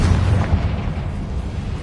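A Confringo fire spell from Hogwarts Legacy bursts in a single booming blast with a rumbling tail that fades over the next second or so. No talking can be heard.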